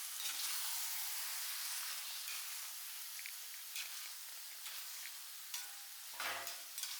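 Washed chicken pieces stirred in a pan with chicken masala for a curry: a soft sizzling hiss with scraping stirs and occasional clatters, close and moderately quiet, with no talking.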